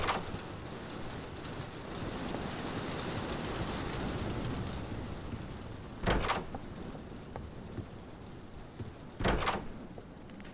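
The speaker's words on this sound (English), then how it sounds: "I just opened a door." Doors opening in the Roblox Doors video game, two brief sharp door bursts several seconds apart over a constant rumbling ambient drone, no talk.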